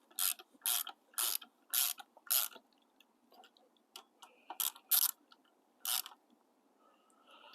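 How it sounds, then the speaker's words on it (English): A ratchet wrench clicks in quick bursts while torquing bolts on stainless CNC drop-outs for a Super73 e-bike. The bursts are close and crisp, followed by a few quieter, sparse clicks. "We're just going to go ahead and torque these two up."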